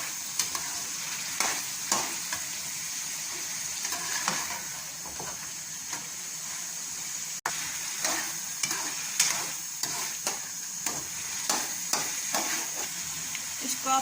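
Pumpkin halwa roasting in a pan as a spoon stirs it, giving a steady soft sizzle with repeated scraping strokes, close and moderately loud throughout with no talking.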